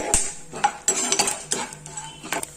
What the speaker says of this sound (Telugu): శనగపప్పు మినపప్పు తర్వాత వేరుశనగ గుండు అన్నీ కలిసేటట్టు కలుపుకుంటూ వేయించుకోవాలి